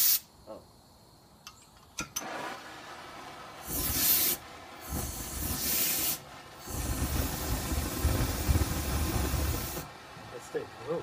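A can of compressed computer dust remover sprays in several bursts of loud, close hissing, the longest lasting a few seconds, with quieter handling noises and brief gaps between them.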